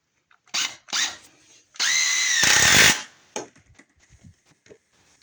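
A power drill drives a screw into a shelf in one sustained whirring burst of a second or so, close up, surrounded by scattered knocks and clatter.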